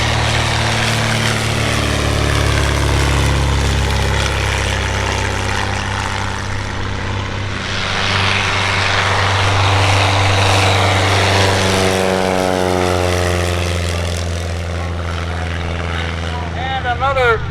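A Great Lakes Sport Trainer antique biplane drones overhead at an old aerodrome, a steady loud propeller-engine roar that shifts in pitch as it passes, with a voice talking over it.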